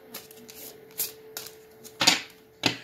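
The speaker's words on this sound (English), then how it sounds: "I'm going to shuffle it up just a little bit" Tarot cards being shuffled by hand in short bursts of riffling and flicking, several quick rustling strokes with brief pauses, close and clear with no talking.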